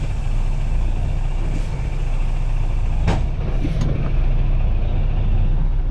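A semi truck idles loud and steady close by as it eases slowly away, its deep engine rumble constant, with a few brief air hisses and clunks on top.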